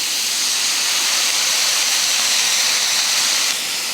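Water sprinkled into a pan of frying chayote with salt and turmeric sets off a loud, steady steam hiss that holds for several seconds before easing slightly.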